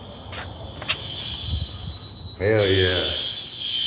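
A fire alarm sounds during a test, a piercing steady high-pitched tone that holds throughout, with a brief lower blaring burst partway and someone speaking over it.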